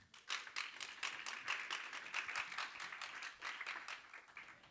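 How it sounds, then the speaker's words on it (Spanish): A church congregation clapping for the Lord during a sermon, faint rhythmic hand claps in quick, uneven bursts that carry on steadily. "¿Cuánto le dan palmas al Señor?"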